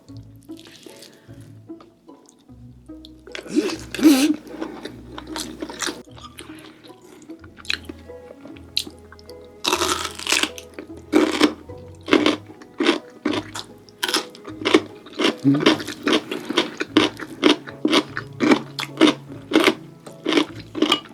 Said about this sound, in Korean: 총각무가 씹는 맛이 또 그만이 아주 아유 총각무가 맛이 제대로 들었네